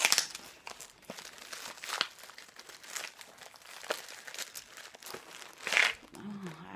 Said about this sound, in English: I'm gonna have to like super cut this open because it's so taped up.